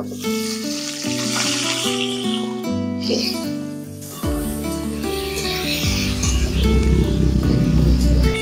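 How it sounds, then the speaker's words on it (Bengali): Potatoes sizzle and crackle in hot oil left from frying paneer, growing louder toward the end, over steady background music. "পনির ভাজা তেলেই এখন আলুগুলো ভেজে নেব।"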